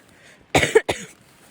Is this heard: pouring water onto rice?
no